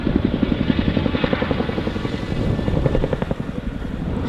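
A Boeing Chinook twin-rotor helicopter of 27 Squadron flies a display at an airshow, its rotor blades beating loud and close in a steady rapid thump over a dense engine roar.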